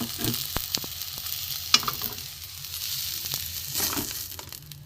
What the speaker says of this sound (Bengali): আলু উচ্ছে মোটামুটি ভাজা হয়ে গেছে বন্ধুরা